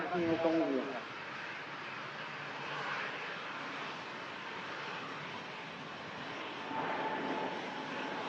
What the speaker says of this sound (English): Legacy Neo rotates.